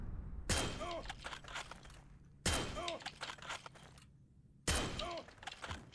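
Karabiner K98K bolt-action sniper rifle fired in the Heroes & Generals infantry shooter game: three sharp, loud shots spaced about two seconds apart, each with a ringing tail, a voice faint underneath.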